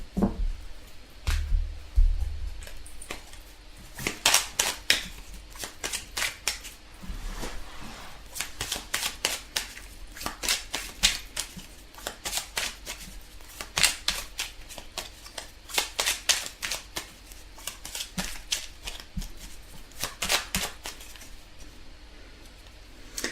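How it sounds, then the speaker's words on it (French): Tarot cards being shuffled and drawn, a steady run of crisp riffling bursts and soft slaps repeating close up with no talk, the card sounds alone throughout. "Alors, on va tirer quelques cartes, on va commencer."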